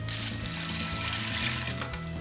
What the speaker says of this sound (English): let's go ahead and get some water in this.